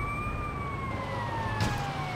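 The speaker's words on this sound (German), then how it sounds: "Aber die Sirene mache ich trotzdem aus" Fire truck siren in the video game GTA Vice City Stories, a steady wailing tone slowly gliding downward over constant engine rumble, loud and close throughout.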